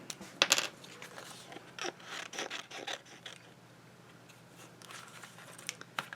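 Scissors snip and rustle through gel-printed paper in a few short, irregular bursts, close by, with quieter crinkling between cuts.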